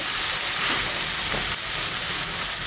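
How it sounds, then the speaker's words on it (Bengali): Hot water goes into a pan where jackfruit has been fried down dry for a shrimp curry, and a loud, steady sizzle and hiss fills the whole stretch without a break. "এখন আমি দিয়ে দিচ্ছি গরম জল"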